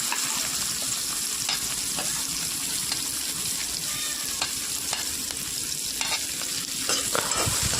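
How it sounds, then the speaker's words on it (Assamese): Onions frying in oil in a pan with dried red chillies, panch phoron and potatoes, a constant close sizzle broken by occasional scraping strokes of a spatula being stirred. "পিঁয়াজখিনি অলপ সময় ভাজি ল'ম ভালদৰে।"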